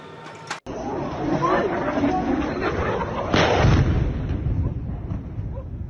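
Explosions from missile strikes on a residential area of Chernihiv, Ukraine, a deep sustained rumble with a heavier blast midway, heard under agitated voices and chatter.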